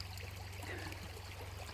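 A river flows with a soft, steady trickling rush, faint and continuous with no voices.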